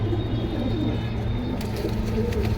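Lal Patti military pigeons coo in low, continuous rolling calls against a loud, steady background hum and noise.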